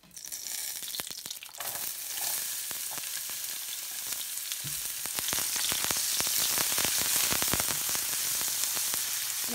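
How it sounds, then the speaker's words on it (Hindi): Onions frying in hot oil left over from frying aubergine pieces for an achari baingan masala, a steady, fairly loud sizzle with crackling pops that grows busier and denser partway through, with no talking. "अब उसी ऑयल में प्याज फ्राई करूंगी।"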